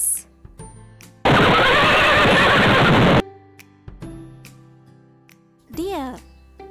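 A loud, breathy horse neigh blasts for about two seconds, followed by quiet moments and a brief spoken voice.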